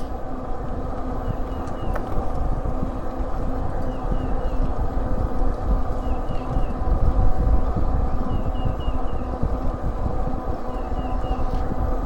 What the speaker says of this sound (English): I hear the wind in my ear